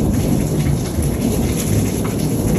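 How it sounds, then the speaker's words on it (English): Heavy rain pours down steadily while low thunder rumbles beneath it, loud and close, heard from under an overhang. "That crack of thunder just shook my hat right there."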